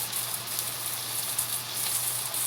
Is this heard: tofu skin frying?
yes